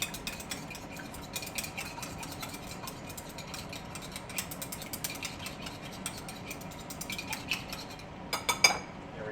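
Chopsticks whisking eggs for omurice in a bowl, a rapid, continuous clatter of ticking taps against the dish that carries on steadily and ends with a few louder knocks.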